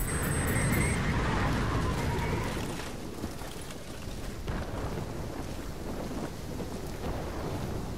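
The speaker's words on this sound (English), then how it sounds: "Wind's picking up." Strong wind gusting in the Call of Duty Black Ops III campaign, a steady roaring rush that stays loud throughout, with a faint tonal whine early on.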